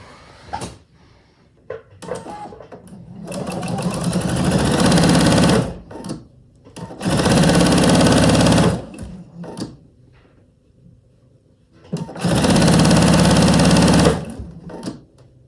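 A sewing machine runs in three loud bursts of rapid stitching while piecing a quilt block, separated by short pauses filled with clicks and handling noises.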